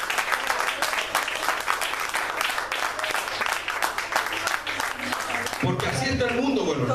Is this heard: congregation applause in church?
yes